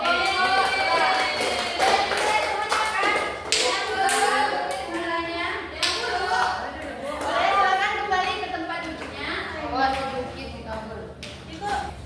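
Classroom clapping during a microteaching lesson on the funeral prayer for eighth graders, a patter of hand claps mixed with children's voices and chatter throughout.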